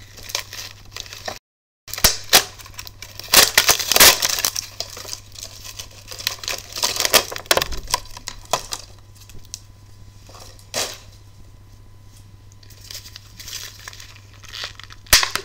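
Vintage 2013 Oz the Great and Powerful figures are freed from their packaging, with near, busy crinkling, tearing and crumpling of plastic and cardboard that continues in irregular bursts and grows sparser toward the end.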